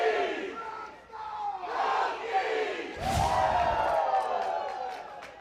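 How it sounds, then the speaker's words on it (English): At a college softball game at Beckham Field, a visiting crowd cheers and yells loudly in swelling waves, with a sharp bang midway. "And the away crowd getting loud at Beckham Field."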